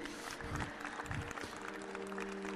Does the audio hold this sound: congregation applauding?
yes